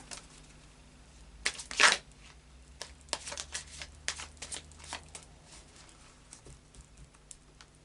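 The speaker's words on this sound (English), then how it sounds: "final shuffle of the Moonology cards" Moonology oracle cards being shuffled in a quiet room: a run of soft papery riffles and flicks, one louder burst near the start followed by lighter intermittent shuffling taps, close by and with no voices.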